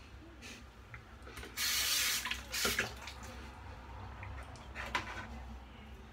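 Tap water runs into a sink while someone rinses soap from their face after a shave, with a loud steady gush that swells for about a second, then softer splashing and dripping.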